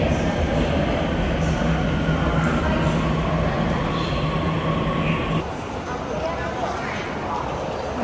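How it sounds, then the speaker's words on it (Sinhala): A train rumbles steadily at a railway station, a loud continuous rolling and clatter that eases slightly toward the end, with voices in the background. "දැන් අපි ට්‍රේන් එකේ ඇවිල්ලා බැස්සා"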